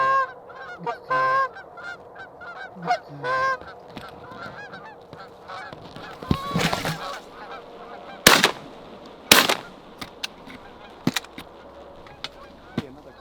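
A low-flying flock of geese honks overhead during a goose hunt in North Dakota, with loud repeated honks early on and several sharp, close shotgun blasts later.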